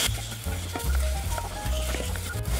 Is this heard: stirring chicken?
yes